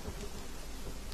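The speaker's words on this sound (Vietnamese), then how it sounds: "Vừa khéo đúng hôm trời đổ mưa lớn" Heavy rain pours down steadily at night, a dense, loud, unbroken hiss of falling water with a low rumbling undertone and no voices.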